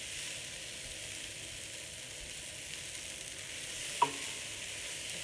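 Potato samosa filling with spices is stirred in a pan, giving a steady soft scraping and faint sizzle throughout, with one brief clink of the utensil near the end.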